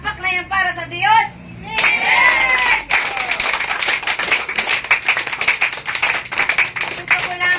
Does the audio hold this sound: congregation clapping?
yes